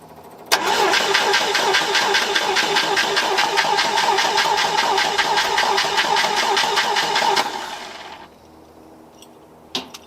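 International Harvester Scout 80 engine starting after fuel priming, a loud, steady rhythmic chugging run of about seven seconds that cuts out and fades, with a faint knock near the end.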